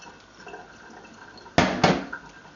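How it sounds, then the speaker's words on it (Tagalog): Soaked, salted bitter melon being drained in a kitchen: two close, sharp splashy bursts of water pouring off, then a brief trickling tail after a quiet lead-in. "drain the bitter melon."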